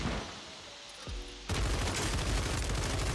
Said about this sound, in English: He's shooting his partner.